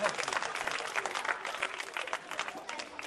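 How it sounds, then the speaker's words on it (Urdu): An audience at an Urdu school's cultural programme and Baitbazi competition claps for a team of schoolgirls receiving books. The clapping is faint and fairly distant, a dense patter that holds steady for a few seconds. "زوردار تالیاں ان بچیوں کے لیے"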